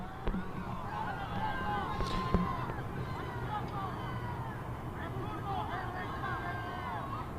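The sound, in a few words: football crowd jeering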